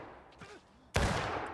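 A single loud musket shot cracks out nearby in the War of Rights video game battle, a sudden sharp blast whose rumble trails off; faint voices murmur just before it.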